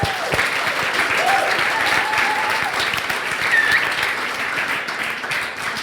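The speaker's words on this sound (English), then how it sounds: "Round of applause." Sustained audience applause fills a coding bootcamp demo day hall in Berlin, a dense, steady wash of many hands clapping at close range for about six seconds, with faint voices and a brief whistle-like tone mixed in.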